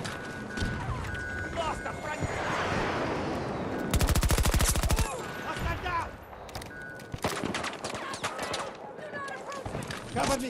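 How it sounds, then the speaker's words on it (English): Rapid gunfire in a video game firefight, with bursts of automatic shots and a dense, loud volley of repeated cracks partway through, while voices talk over the shooting. "They're shooting!"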